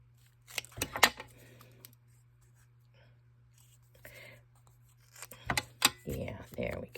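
Scissors cutting through paper give a few sharp, close snips in two short bursts, one near the start and one near the end, with quiet stretches between and faint talk nearby.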